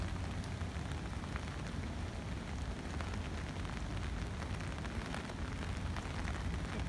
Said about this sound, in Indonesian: angin masih kencang, hujan tidak berhenti